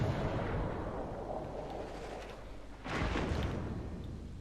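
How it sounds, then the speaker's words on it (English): Naval gunfire booms in the World of Warships Legends game as the cruiser HMS Belfast '43 comes under fire, with a steady low rumble and a sharp, heavy blast near the end, no voices. "Coming under fire from something, but not really sure what"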